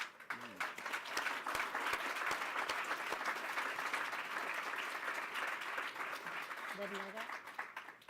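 Sustained audience applause welcoming an honored guest, a dense, even roar of clapping that carries through, with a brief voice surfacing near the end.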